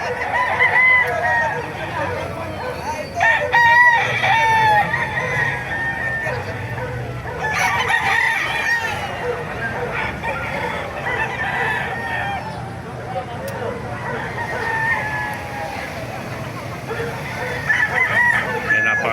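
Roosters crow again and again over a steady background of clucking chickens at a chicken market in Bocaue, Bulacan, a busy, loud flock with faint voices mixed in.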